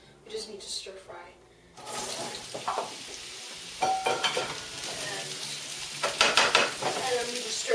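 Vegetables stir-fried in sesame oil with garlic, sugar, salt and a splash of water sizzle loudly and steadily in a hot pan, with scraping stirs and bursts of crackle, under occasional talk.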